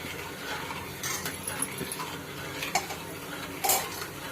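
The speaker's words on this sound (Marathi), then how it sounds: "परत मिश्रण ढवळत राहायचं" A milk mixture for kulfi is stirred in a pot, producing soft scraping and clinking of a spoon against metal, with a few sharper taps, close up and steady, with no talking.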